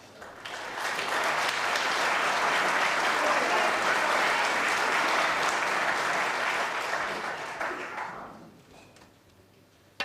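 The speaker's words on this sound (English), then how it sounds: "Applause for Joe Perry as he comes back 23." Snooker arena crowd at the 2014 World Championship applauding Joe Perry, a sustained, even clapping that swells quickly, holds for several seconds, then fades away into near quiet.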